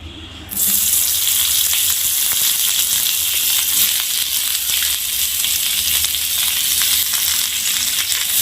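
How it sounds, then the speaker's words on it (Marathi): Onions frying in a little oil in a wok for a spicy matki misal: a loud, steady sizzle bursts in after a brief quiet start and hisses on without pause, with no talking. "आता आपण थोडंसं कढईमध्ये तेल टाकून कांदा भाजून घेणार आहोत"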